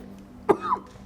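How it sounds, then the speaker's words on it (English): A single short, harsh cough, close by and abrupt, followed by a brief rasping tail against a quiet hum. "he took a bite of bread and started coughing violently"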